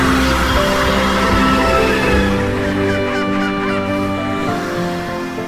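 A Rhamphorhynchus, a small flying reptile in the video game Path of Titans, gives loud, sustained honking calls near water that fade slightly toward the end.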